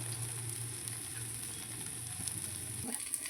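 Paneer tikka pieces roast in a pan, giving a steady, soft sizzle with faint crackles over a low background hum. No one speaks.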